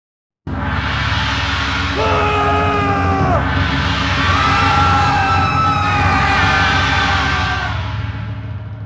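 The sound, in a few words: loud cries of a crowd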